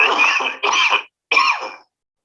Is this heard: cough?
yes